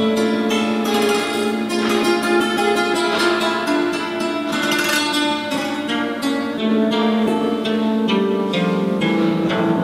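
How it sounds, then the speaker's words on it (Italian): Santur, a struck percussion string instrument, played solo in a live evening setting, with bright ringing hammered notes and sustained shimmering overtones throughout, steady and fairly loud with no talking. "In questo caso stasera ho portato anche il Santur perché è uno strumento"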